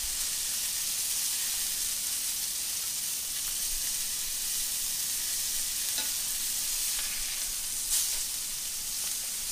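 A blackened bacon turkey burger patty sizzles loudly in a hot pan, a dense, steady hiss that stays constant throughout with one brief clink near the end.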